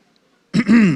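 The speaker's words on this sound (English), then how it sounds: "I clear my throat." A single short, guttural throat clearing, close and fairly loud, after a moment of near silence.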